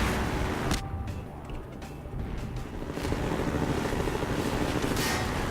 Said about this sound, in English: While the chopper's chasing me, I'm going to continue with the trend of just ignoring the chopper.